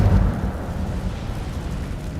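Incendio fire spell cast in Hogwarts Legacy video game: a loud rumbling whoosh of flame with a heavy low burst at the start, then a steady roaring rush that fills the short moment alone.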